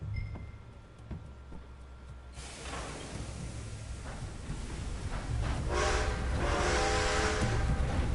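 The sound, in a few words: train running in the video game Red Dead Redemption II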